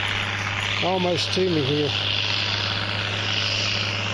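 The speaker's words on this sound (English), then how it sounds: "I was racing the tractor" A farm tractor engine drones steadily nearby in a field during civil war relic hunting, a constant low hum under a man's brief speech.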